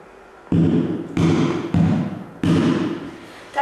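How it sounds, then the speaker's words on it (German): Deep flat-hand bass strokes on a wooden cajon, four loud, resonant thumps spaced unevenly about a second apart, each with a short boomy decay, heard alone in a quiet room. "Der Bassschlag wird mit der Hand mit der gestreckten Hand erzeugt."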